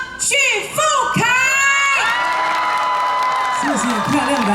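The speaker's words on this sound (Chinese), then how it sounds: "掌声欢迎金曲歌王" A festival crowd at a railway culture fair in Chaozhou, Pingtung, cheers, whoops and applauds loudly to welcome a singer on stage with a Pingtung band. Shrill shouts and screams sweep over steady clapping.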